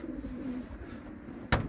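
Racing pigeons coo softly in low, throaty murmurs amid outdoor background noise, ending with a sharp brief click.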